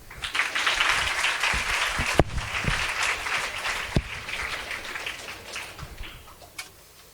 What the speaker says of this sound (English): you can clap louder then